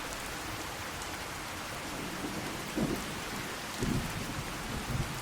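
Rain falling in the Fallout 4 video game, a steady hiss of raindrops on surfaces with a few low thunder-like thumps near the end, with no voices.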